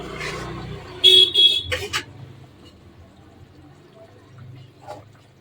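Road traffic passes just outside a kitchen beside the street, with a short double car horn toot near the start, then a low vehicle rumble fading off and a faint clink later, all fairly near with no talk.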